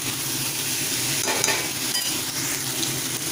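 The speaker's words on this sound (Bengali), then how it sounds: "এবার ভালোভাবে একটু ভেজে ভেজা করে নেব।" Vegetables coated in spices, salt and a little sugar fry in a pan for a dried fish curry, giving a continuous close sizzle with a few sharper crackles and stirring scrapes, with no voices.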